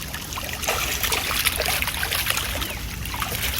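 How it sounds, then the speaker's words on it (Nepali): Water trickles and splashes close by as someone plays with it, a continuous, lively burble with small uneven spatters. "म चाहिँ यहाँ पानी खेलिरहेको छु"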